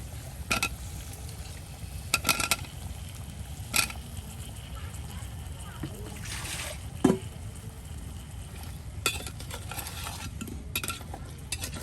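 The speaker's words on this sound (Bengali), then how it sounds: "আর এখন সেই মেটে আলুগুলো দিয়ে দেওয়া হচ্ছে" Yam pieces tumbling into a pot of browned, spiced meat, with stirring and a low steady sizzle throughout, brief clinks of a utensil against the pot, and faint background voices.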